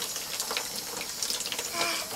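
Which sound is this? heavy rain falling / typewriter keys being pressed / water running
water running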